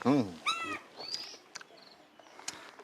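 A house cat at a Bihar home gives several short, close meows, one with strongly wavering pitch, followed by softer chirps and small clicks amid quiet room sound.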